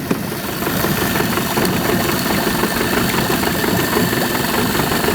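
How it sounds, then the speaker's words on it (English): The small petrol engine of a dam sealer machine with a hopper idles loudly and steadily nearby, with a rough, slightly knocking mechanical chug throughout. "This machine doesn't like idling."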